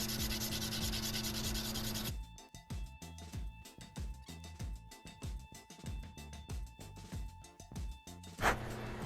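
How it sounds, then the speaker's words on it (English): BMW VANOS unit parts from an E36 Touring S54 are sanded by hand in quick repeated back-and-forth rubbing strokes, close and rhythmic, after a brief burst of steady noise. "So now I got to start sanding these down."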